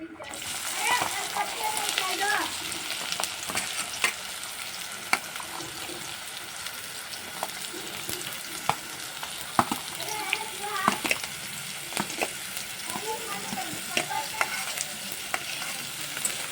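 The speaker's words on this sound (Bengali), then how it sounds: "পেঁয়াজ কুচিটা একটু হালকা করে ভেজে নেব" Chopped onions sizzle and fry steadily in hot oil in a wok, with intermittent stirring scrapes and clicks of a spatula over the constant crackle; a voice talks over part of it.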